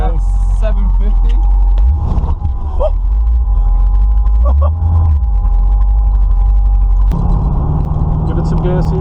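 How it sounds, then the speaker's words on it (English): Camaro V8 idling with a Brawler carburetor, a deep continuous low rumble that drops and settles, then shifts to a slightly higher steady note near the end, with a voice talking over it. "test drive with the Brawler carburetor. Just gonna go around town, idle in about 900."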